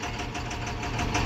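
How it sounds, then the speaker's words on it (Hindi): A Tata 2518 BS4 truck's diesel engine, faulty and throwing black smoke, runs with a loud, close, continuous rumble and rapid knocking through it, steady for the whole stretch, with no talk. "ये गाड़ी टक टक टक टक की आवाज़ कर रही है"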